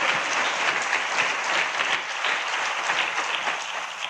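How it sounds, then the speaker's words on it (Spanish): A church congregation applauds during a Spanish-language sermon: a dense, steady wash of many hands clapping at once, fairly loud and even throughout, with no voices on top. "Vamos a darle fuerte ese aplauso al Señor."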